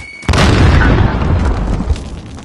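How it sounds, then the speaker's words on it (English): A grenade detonates in Call of Duty Modern Warfare, a sudden loud close boom followed by a long rumbling decay. "Throwing grenade!"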